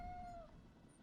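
A pet cat with two sets of ears in the Elder Scrolls Online video game gives a single short, falling meow near the start, quiet and clear, followed by faint background hush.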